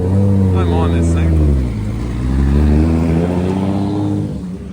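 A drift car engine fitted with screamer pipes on the right side revs hard and close, its loud, steady tone rising, dipping and climbing again throughout.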